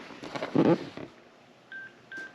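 Sena 20 motorcycle Bluetooth headset tones: a short warbling chime followed by two brief steady beeps, clean and close with quiet gaps between.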